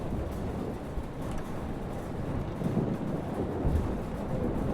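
A thunderstorm rages in the game Life is Strange: a continuous low rumble of wind and rain with rolling thunder, steady and enveloping, with no voices.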